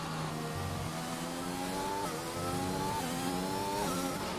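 Racing cars at full throttle in a sim racing game at Portimao, engines screaming loud and close with rising, shifting pitch as they power out of a curve, steady and continuous without speech.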